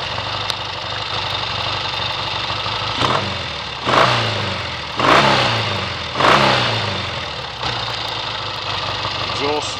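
A 1968 Triumph Tiger 650 TR6R motorcycle engine runs close by, idling with a steady throb and revving up sharply three times in quick succession before settling back, loud and alone.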